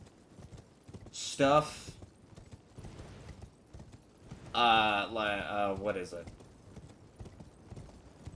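A horse's hooves clip-clop steadily in the Elden Ring video game, quiet and rhythmic beneath a player's occasional speech.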